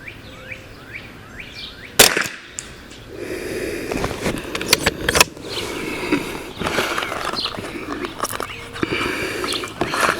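An 18-inch Ruger 10/22 rifle fires at an outdoor range, with a few sharp, dry cracks spaced irregularly over steady background noise.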